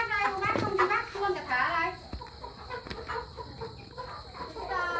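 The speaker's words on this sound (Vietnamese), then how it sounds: "Đây là mình đi bắt gà loại nha anh em nhé." Free-range hill chickens cluck on a farm amid outdoor background noise, while people talk over them in the foreground.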